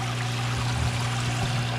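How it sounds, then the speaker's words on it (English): Water pours back into a bait tank built from a chest freezer while its aerator bubbles, a close, continuous splashing trickle with a steady low hum underneath. "aerator coming up, air bubbles there, filtered water coming back down into here"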